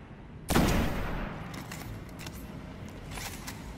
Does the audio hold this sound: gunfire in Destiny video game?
yes